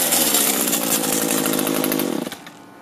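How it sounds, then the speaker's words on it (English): An Echo string trimmer runs with its drive shaft rattling, a loud buzzing engine with a metallic chatter that fades and sputters out toward the end. "That thing sounds like it's just rattling around in there, that little drive shaft."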